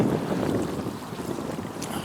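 Strong wind sweeps over the Kakhovka Reservoir, buffeting the microphone in a constant low roar with faint water sloshing beneath it and no voices.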